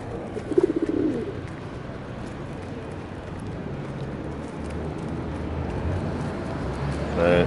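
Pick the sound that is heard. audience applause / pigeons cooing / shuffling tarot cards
pigeons cooing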